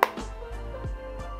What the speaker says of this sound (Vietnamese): và khi mà chúng ta gắn vào ấy, nó sẽ có một cái tiếng kêu như thế này.